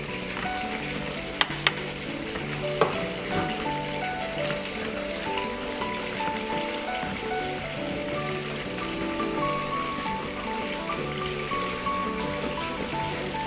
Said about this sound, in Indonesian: Masukkan adonannya sedikit demi sedikit sambil terus diaduk.